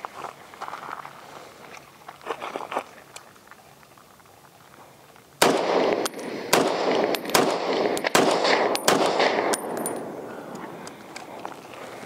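A PSA Sabre 10 rifle firing at a 200-yard steel target on an outdoor range, with a string of loud, sharp reports coming in uneven succession, the quieter earlier stretch giving way to heavy, close shots.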